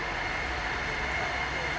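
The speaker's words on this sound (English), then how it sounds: "Train." A train passes nearby with a steady broadband rumble and hiss that holds at a constant level throughout, with no clear approach or fade.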